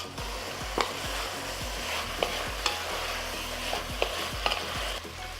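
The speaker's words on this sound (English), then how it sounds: "I'm letting the pork brown on all sides." Pork chunks browning in a pan over medium-high heat give a steady sizzle and crackle, with occasional light scrapes and clinks as they are turned. No one speaks.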